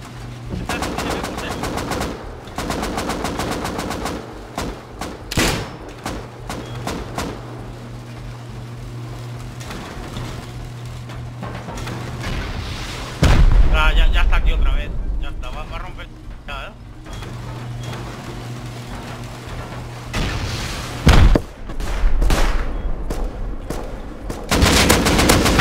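An auto turret in Rust fires long, rapid machine-gun bursts at close range, broken by short pauses and a few heavy bangs, while voices talk in Spanish throughout.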